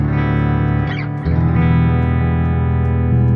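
Sustained electric guitar chords ringing out with delay and reverb, a brief dip and swell midway, then a steady washy sustain.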